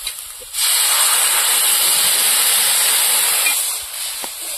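Water poured into a hot kadai of fried taro bursts into a loud, steady hiss of steam that starts abruptly, holds for several seconds close up, then eases slightly near the end.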